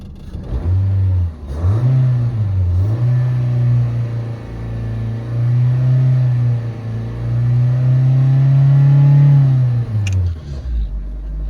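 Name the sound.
car engine idling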